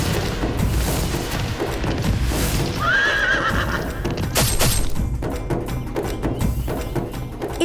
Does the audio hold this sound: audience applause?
no